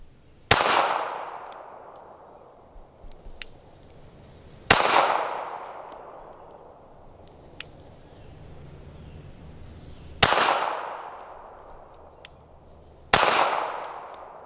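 Four sharp, loud pistol shots from a Smith and Wesson Bodyguard, spaced a few seconds apart in an irregular rhythm, each with a long echoing decay that reverberates across an outdoor range.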